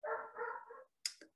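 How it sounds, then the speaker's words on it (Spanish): A neighbor's small dog gives a drawn-out whining bark followed by a sharp, high yip, close and fairly quiet, with nothing else around it. "Disculpa por la voz del perrito del vecino."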